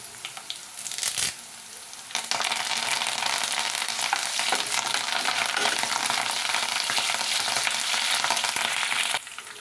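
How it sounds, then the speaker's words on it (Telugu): Crushed garlic frying in hot oil while cooking fish, with a loud, dense, continuous sizzle that swells after a brief lull near the start and runs steadily close-up, with no voices. "అవి వేగుతున్నప్పుడే చితకొట్టిన వెల్లుల్లి ఆయిల్లో వెల్లుల్లి ఫ్రై అయితే కనుక మంచి ఫ్లేవర్గా ఉంటుంది"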